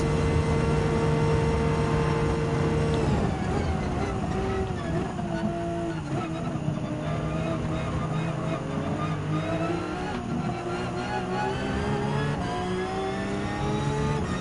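Race car engines roar continuously in a Gran Turismo 7 race, a steady loud drone with shifting pitch as cars accelerate and change gears, with no clear pauses.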